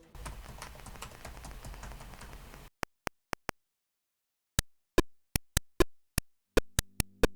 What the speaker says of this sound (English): What you're hearing right now are the dulcet tones of a program called Drum Machine by Steve A.J.